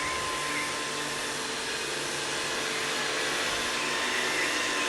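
A Samsung Navibot robot vacuum cleaner runs with a steady, loud whirring hiss of motor and suction, constant and close throughout with no talking.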